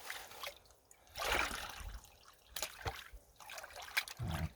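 Water sloshes and trickles through gravel and rocks in a gold pan on the Trinity River in California, faint irregular splashes and swirls close by.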